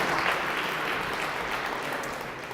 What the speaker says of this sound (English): huge round of applause for PowerUp Hydrogen Fuel Cell